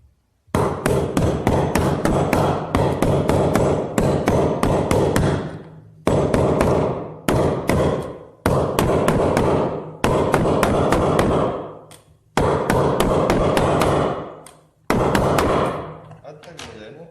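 Hammer blows drive a bearing into place on a Zanussi ZWF 1106W washing machine, coming in loud, close bursts of rapid metallic strikes separated by short pauses.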